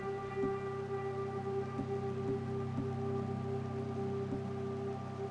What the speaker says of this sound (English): Wait, is it snowing or is that rain?